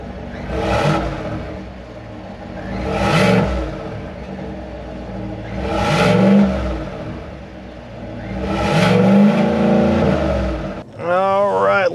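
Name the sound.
Chevy Silverado ZR2 Bison gas engine revving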